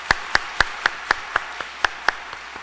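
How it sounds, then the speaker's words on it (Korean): A church congregation at a Wednesday worship service claps in unison for the choir, about ten sharp, evenly spaced claps in a steady quick rhythm with no talking. "우리 시온 찬양대를 위해서 격려의 박수로 함께 박수하도록 하겠습니다."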